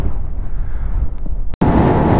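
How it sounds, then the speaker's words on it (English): Strong wind buffets the microphone while a motorcycle rides along a road, making a constant roaring rush with a brief dropout. "when I say it's windy now, I mean it is windy"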